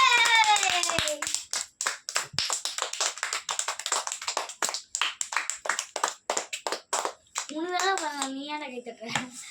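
Children at a birthday gathering clap their hands in a quick, uneven run of close, sharp claps, with a voice and adult talk mixed in and some singing near the end.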